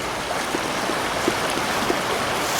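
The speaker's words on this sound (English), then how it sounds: "Water's gulping over there." Water flows steadily in a stream on a late-winter nature walk, a continuous close wash of rushing, gurgling water with no voices.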